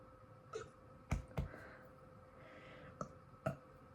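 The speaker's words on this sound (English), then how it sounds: "that was such a tiny burp, but I felt it coming up and I just had to let it out" A person lets out a tiny burp, heard as a few brief, soft throaty bursts spaced apart over a quiet room background, with no talking.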